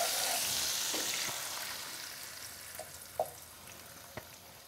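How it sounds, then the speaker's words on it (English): Gözleme made with yufka, cheddar and chard sizzles in a hot pan of olive oil and butter: a soft, steady frying hiss with a few small pops, quiet and fading slightly, with no talk. "Olive oil in the pan. Remember, the pan does need to be quite hot."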